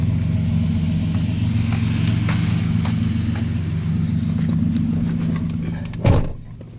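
A 2013 Ford F-150 pickup with a 3.7 engine and dual exhaust drums along while driving, a steady low exhaust rumble heard from inside the cab, ending in a brief bump.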